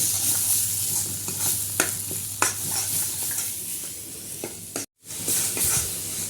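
Masala for rajma roasting in a pan, a continuous close sizzle broken by repeated scraping strokes of a spoon stirring, with a brief silent cut near the end.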